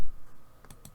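Two quick, light clicks of a computer mouse at a desk while exporting a bitmap in a digital cardmaking program, close and crisp after a quiet start.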